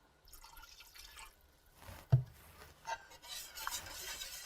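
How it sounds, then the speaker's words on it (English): Chicken broth is poured into a pumpkin sauce in a pan, a faint liquid splashing and dripping with a brief sharp clink partway through, quiet and close, with no talk. "Now we're going to add about half of our chicken broth."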